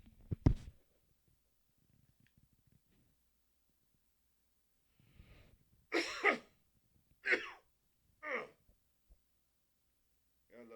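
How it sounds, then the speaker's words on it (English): A man in a quiet home recording room coughs several times in short bursts, close and fairly loud, with a softer throat sound near the start and quiet silence between them. "Got a little cough on me today."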